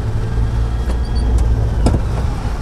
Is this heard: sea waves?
no